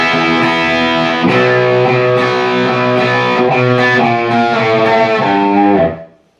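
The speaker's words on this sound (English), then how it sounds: "there's this first measure has a real nice technique to it and a" Distorted electric guitar plays the octave walk-down from verse 1 of a song, a steady run of gritty notes descending before ringing out and fading.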